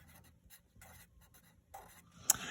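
Pen or marker writing out a single word on paper or a board during a geometry lesson, a run of short scratchy strokes with brief pauses, close and moderately quiet, ending in a sharper tap.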